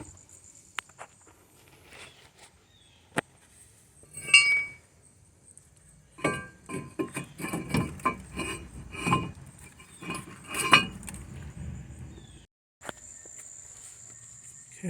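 Metal clinks and clunks come from a caliper bracket being refitted over a new front rotor on a 2012 Ford Escape, sounding in a scattered close burst of knocks after quiet tool handling, with no talk.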